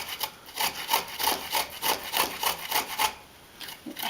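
Fresh ginger rubbed on a small hand grater in a home kitchen gives steady, rhythmic rasping strokes, about two per second, close and moderately loud, with no voices.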